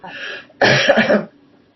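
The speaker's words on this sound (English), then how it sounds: "I'm going to cough." A single close, harsh cough bursts out after a brief throat-clearing rasp, then fades into quiet.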